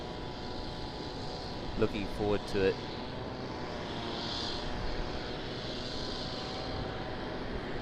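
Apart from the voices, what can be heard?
airliner with GE90 engines departing Sydney Airport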